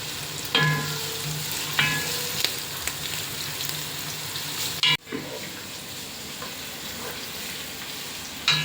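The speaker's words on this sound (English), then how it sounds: "Add chopped onions. Saute until the onion turns soft." Chopped onions sauteing in a single pot of pulao, a steady close sizzle with a few scraping stirs and one sharp knock partway through, no talking.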